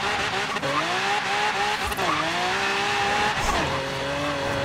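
Front wheels spin on a 1500-horsepower front-wheel-drive Lamborghini, loud and close: the engine howls through the gears and the tires squeal steadily the whole time, with no talk.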